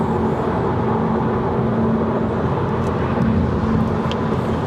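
A VW ID.3 Pro S 77 kWh electric car cruises at highway speed near 130 km/h, giving a steady, loud cabin roar of wind and tyre noise with no breaks.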